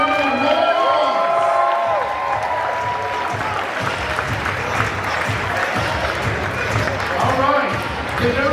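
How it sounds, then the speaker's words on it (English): Crowd at a Pride ballroom ball at New York City Hall breaking into loud sustained applause and cheering, with whoops and voices mixed into the steady roar throughout. "Give yourselves a round of applause"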